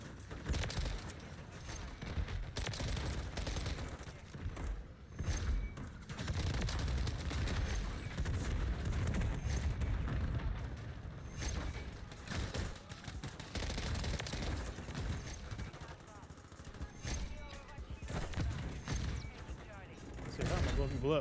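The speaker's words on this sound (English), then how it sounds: "So many damn explosions for no reason." Dense, continuous barrage of explosions and gunfire in Modern Warfare III, loud and chaotic throughout, with no clear pauses.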